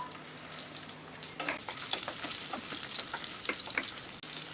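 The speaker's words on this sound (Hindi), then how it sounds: "अब जो मैंने आलू उबाल के रखे हैं उसे मैं इसमें डाल दूंगी और फ्राई कर लूँगी।" Boiled potatoes frying in hot refined oil in a frying pan, a continuous close, dense sizzle with crackling pops and stirring, no voices.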